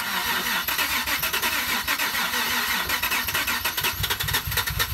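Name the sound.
auction drift car engine starting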